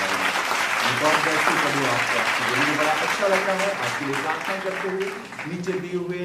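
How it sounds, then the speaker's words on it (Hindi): Applause from a Christian congregation during a Hindi prayer service, continuous, with a man preaching loudly over it the whole time. "आइए परमेश्वर के लिए जोरदार तालियां बजाएं।"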